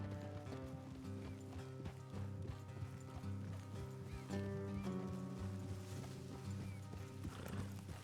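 Horses in the video game Red Dead Redemption 2 plod along with a steady, close clip-clop of hooves over music and game ambience, with a brief whinny.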